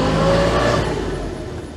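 A tiny Autobianchi Bianchina van with an engine of about 18 horsepower pulls away from rest, its small engine humming steadily and fairly loud up close, easing slightly toward the end.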